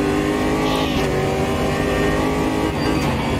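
A simulated race car engine in Automobilista 2 screams loud and steady at high revs on a mountain circuit, with slight pitch shifts as it works through gears.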